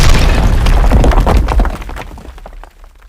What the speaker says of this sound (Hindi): और एक जोरदार धमाका हुआ।